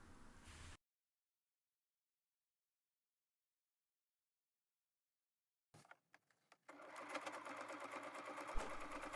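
A sewing machine stitching fabric around a cutout on a gift bag, starting with a brief run, then silence, a few short bursts and finally a steady, close, rapid mechanical whir.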